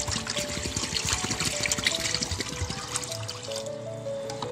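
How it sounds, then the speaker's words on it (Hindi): Water poured into a cooking pot for dried apricot chutney, a steady splashing trickle with a running liquid stream, fairly close and continuous, no talk over it. "पहले मैं पानी ऐड करूंगी।"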